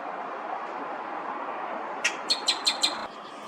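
A great-tailed grackle gives a quick series of five sharp, rising whistled calls, evenly spaced, ringing out clearly over a steady outdoor background hum.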